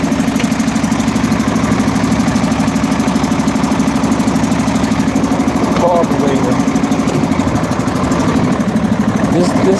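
An engine with a faulty carburetor runs at idle, a loud, steady, slightly pulsing drone that continues throughout, with people talking over it.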